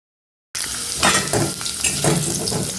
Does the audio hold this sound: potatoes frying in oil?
yes